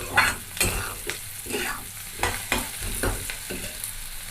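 Onions frying in a pan with Kashmiri red chili and salt, stirred in separate scraping strokes about every half second over a soft, low sizzle.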